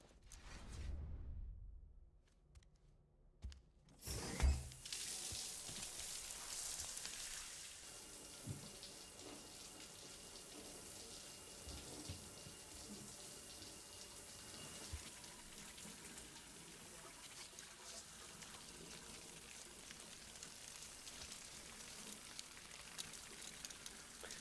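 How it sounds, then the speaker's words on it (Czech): A character showers in the video game Death Stranding: after a brief sharp onset, water streams in a steady, soft hiss that keeps going without a break for the rest of the clip. "Tak, určitě se ho sprchujem."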